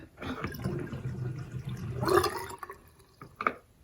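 Water draining out of a bathroom sink after a new faucet install, gurgling and trickling in bursts with a louder glug near the end, while a person talks over it.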